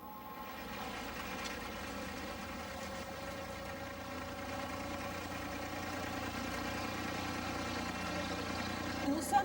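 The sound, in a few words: engine of an abra boat crossing Dubai Creek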